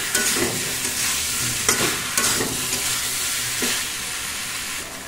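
Spices sauté in hot oil for egg khichuri, a dense, loud, continuous sizzle with recurring scrapes of a spatula stirring the pan.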